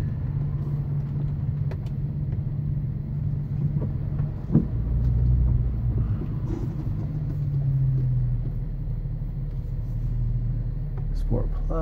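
A Dinan-tuned BMW M235i cruising in Sport mode, its low engine drone and road rumble steady throughout, with a brief swell partway through, under continuous talking.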